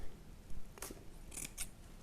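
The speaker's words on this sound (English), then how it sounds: "now using my scissors, not your secateurs, your scissors, I'm going to cut it into the ribbon" Scissors snip through gold ribbon while a florist makes a bridal hand-held posy: a few quiet, crisp cuts close up in a calm room.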